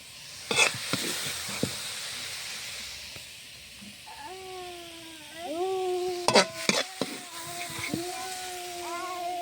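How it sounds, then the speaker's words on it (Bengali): Pea greens stir-fried in a pan, with scattered spatula scrapes and a soft sizzle. A drawn-out, wavering tonal voice rises over the cooking in the second half. "শাকটা সুন্দরভাবে লাড়াচাড়া করি ভেজে নিই।"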